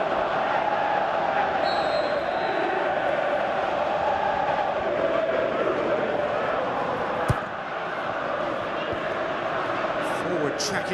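Stadium crowd in the PES 2017 football video game, a steady broad roar of cheering and murmur running throughout under continuous commentary, with one brief sharp knock near the middle.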